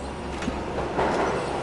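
Subway train rumbling in The Precinct video game, a steady low rolling drone with faint rail clatter, brief and moderately loud.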